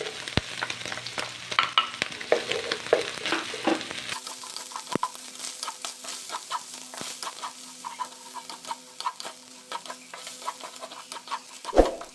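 Garlic frying in a pan for home-style sautéed udon noodles, an active crackling sizzle with scattered scraping and tapping of a utensil, calming to a steadier hiss and ending with a louder knock.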